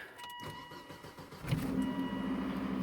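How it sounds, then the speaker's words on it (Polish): A Volvo V70 T5 engine cranks briefly at 33 degrees and then catches, settling into a steady rumbling idle close by. "zobaczymy jak auto pali"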